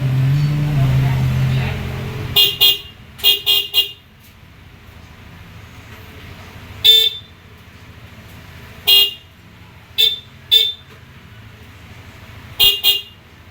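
A newly installed motorcycle horn honks in several short, loud bursts, some in quick pairs and others spaced apart, over a low idling engine rumble, with no talk during the honks.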